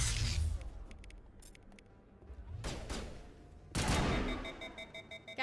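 Bursts of gunfire from a Mass Effect Legendary Edition weapon crackle in short volleys separated by quieter gaps, with a loud salvo near the end.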